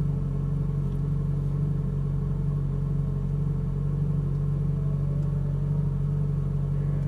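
A Ferrari 458 Italia on a race track course with blue cones gives a steady, low engine rumble that holds at an even level throughout, with no clear revving or spoken voices.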